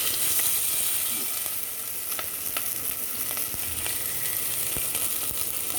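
Okra pieces fry in hot oil with curry leaves and asafoetida for sambar, a steady close sizzle filling the moment with occasional sharp crackles and spatula scrapes, no talking.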